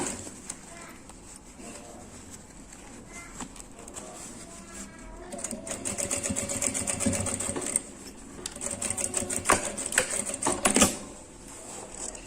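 A sewing machine stitches fabric for a small essential-oil holder, its rapid needle rattle rising and falling in close bursts with short pauses, while faint background sounds and possible birds linger beneath.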